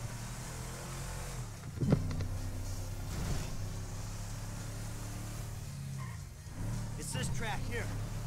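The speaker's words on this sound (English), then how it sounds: "God, this car sounds so bad." Car engine in Grand Theft Auto 5 droning steadily throughout with a low harmonic hum and small pitch shifts, a brief bump near two seconds, with voices talking over it.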